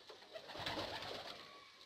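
Pigeons coo softly at close range, a steady low warble that continues throughout with no talking.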